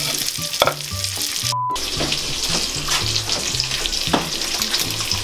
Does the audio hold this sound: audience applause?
no